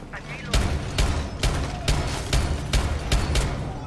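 Loud gunfire in the video game Rainbow Six Siege: single shots ring out in a steady rhythm of about two per second, each a sharp, full burst over a continuous background rumble.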